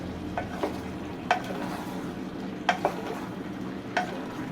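Potatoes and eggplant being stirred and fried in a pan for aloo baingan sabzi, with a steady low sizzle and a few sharp spoon scrapes against the pan, close and fairly loud, with no talking.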